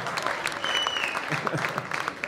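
A small studio group claps briefly during a casual talk show, the clapping fairly close and uneven, with a faint whistle-like tone and some background murmur.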